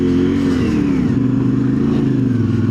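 A CF Moto IBEX 450 on Tusk 2 Track tires drives through snow, its engine droning steadily and loud up close, the pitch dipping slightly midway without any break.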